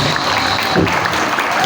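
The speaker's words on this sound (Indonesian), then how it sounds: "beri tepuk tangan yang meriah untuk Pak Enggal" A crowd of students at a Ramadan boarding-school gathering gives a loud, continuous round of applause, thick and steady for the whole short stretch.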